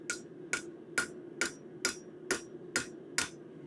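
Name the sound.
hammering steel bird feeder hanger curl on anvil horn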